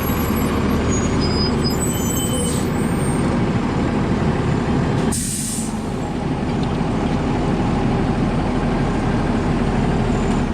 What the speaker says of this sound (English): here's the front of the station, and here's our big fire truck.